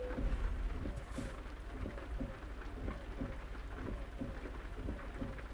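Steady rain falls in American Truck Simulator, with low rumbling thunder and a continuous wash of droplets throughout, no voices present.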